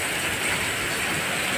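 Very heavy rain, with drops large enough to seem like hail, pours down in a dense, loud, unbroken hiss that fills the whole stretch with no voices.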